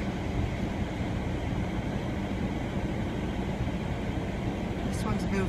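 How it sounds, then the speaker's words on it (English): A steady, low rumbling drone of a long freight train rolling slowly past in Chico, California, continuous and even, with a brief metallic rattle near the end. "slow train."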